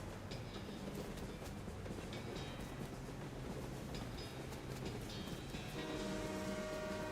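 A train in West of Loathing rumbles steadily and faintly throughout, with a tonal horn-like note entering near the end.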